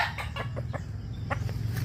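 Chickens and roosters cluck in a short series of close, clear calls over a low background murmur.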